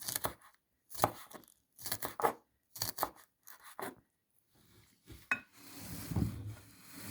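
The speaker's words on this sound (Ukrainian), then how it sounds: "дрібненько січемо черемшу і нарізуємо цибульку зеленесеньку, теж дрібнесеньку" Wild garlic and green onions being finely chopped with a knife on a board for a spring salad: bursts of quick, close knife strokes with pauses between, then a softer rustle toward the end. No voices.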